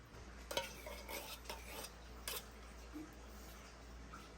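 Ingredients for a mango graham dessert with fruit cocktail are stirred in a bowl, with a few soft clinks and scrapes of a utensil early on, then a quiet stretch; faint and close, with no speech.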